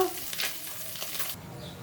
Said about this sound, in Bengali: ভেজে নিলাম মসমসা করে ভেজে নিয়েছি